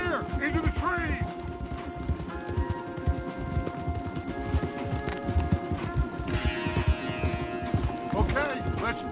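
Galloping horses in Red Dead Redemption 2 pound out rapid, continuous hoofbeats heading into trees, close and busy beneath music and game effects, with a brief neigh near the start.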